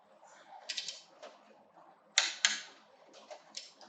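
A torque wrench is tightened onto the pump shaft bolt of an Ampco CB+ craft brew pump, giving a quiet series of close, sharp ratcheting clicks in irregular bursts, with two louder snaps in the middle.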